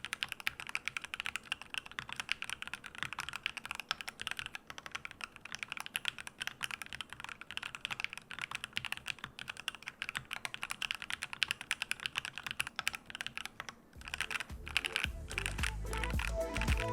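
Rapid, continuous typing on an Epomaker Magcore 87 magnetic-switch gaming keyboard with a gasket mount, triple dampening foam and a full aluminium body, giving dense soft clacks heard close with no talk.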